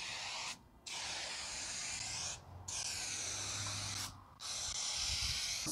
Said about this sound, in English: It definitely doesn't like spraying perfectly horizontal, but if you're at a slight angle, it actually goes pretty on pretty well.